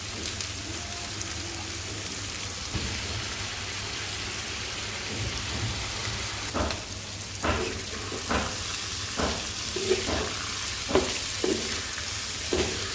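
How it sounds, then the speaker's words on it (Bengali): Bitter gourd sizzles in a pan with prawns and onion, a steady close frying hiss with a low hum beneath and a run of scraping stirs in the second half. "চিংড়ি মাছটা দেওয়ার পরে পেঁয়াজের সাথে ভাজা হয়ে গেছে তারপরে আমি করলাটা দিয়ে দিলাম"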